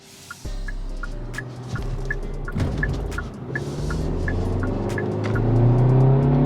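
A 2021 Hyundai Sonata Limited accelerates on a busy road, its engine note rising steadily and growing louder from inside the car, with a repeating ticking chime over the engine.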